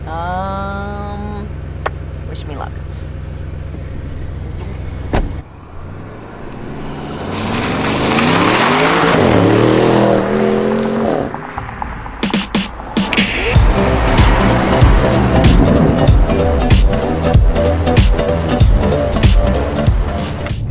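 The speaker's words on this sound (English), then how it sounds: "This car has a twin turbo V8 with 600 horsepower." Audi RS7 with a 600-horsepower twin-turbo V8 accelerating hard on the road, engine revving through rising gear sweeps, a pause, then a loud roaring pull with crackles and tire noise; a brief spoken line comes early.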